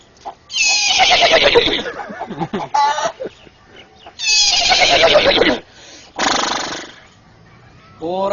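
A man imitates a horse neighing: two long, loud, quavering whinnies close up, each followed by a shorter trailing cry, with brief breathy gaps between them.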